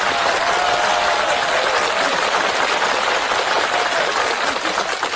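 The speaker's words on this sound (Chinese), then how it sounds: "掌声有请" A studio audience at a Chinese comedy talk show claps in a dense, steady wash of applause, loud and continuous throughout with no break.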